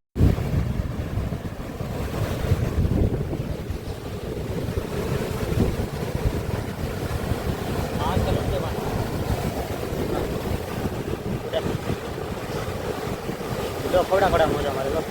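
Stormy sea churning against the shore, a continuous roar of surf and crashing waves mixed with heavy wind buffeting, steady and loud throughout.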